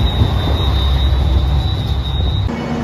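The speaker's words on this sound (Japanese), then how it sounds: "白いアンパンマン列車特急宇和海22号" JR Shikoku's white Anpanman train, limited express Uwakai, rolls past close by with a loud, steady rumble and a high sustained whine, the tone shifting near the end.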